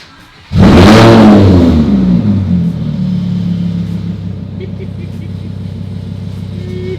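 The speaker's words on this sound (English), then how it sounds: "Let's get her expression on the cold start real quick" Modified Audi R8 firing up on a cold start with its valves open, a sudden loud roaring rev that peaks quickly and then settles into a deep, steady idle rumble, close by.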